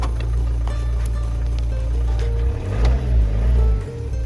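A 2004 Honda Civic 1.7 CDTi diesel engine idles with a steady low drone and faint belt or pulley bearing grinding, its pitch swelling and dipping briefly toward the end.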